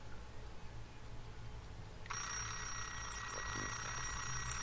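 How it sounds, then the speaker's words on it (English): A thrown alarm clock in the stealth game Sir, You Are Being Hunted suddenly starts ringing after a quiet ambient stretch, then holds a continuous, fairly faint electronic bell tone. "Come on, alarm clock, go off."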